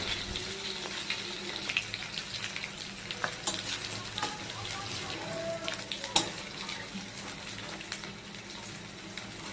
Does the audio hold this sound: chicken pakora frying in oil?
yes